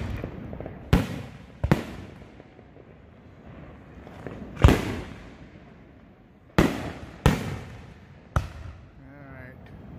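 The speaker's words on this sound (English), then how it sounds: "with their own commercial grade fireworks." Commercial-grade fireworks burst over a lake on a holiday night, heard from close below. About seven sharp, loud booms land at irregular intervals, each followed by a rumbling decay over a quieter background.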